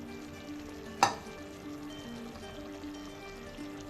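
Mixed vegetables with salt, methi and capsicum fry in a pan with a soft, steady sizzle, broken by one sharp clink of a utensil.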